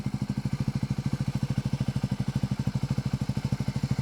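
A customized 2024 Triumph Speed 400 motorcycle idles with a steady, even low thump, close by and fairly quiet, running alone without voices.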